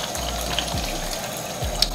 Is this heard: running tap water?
yes